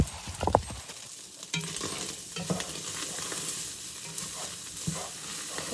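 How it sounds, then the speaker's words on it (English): Hamburger meat frying in a pan, with a few nearby stirring scrapes and clatters over a steady low sizzle, no talking. "I gotta go stir my hamburger"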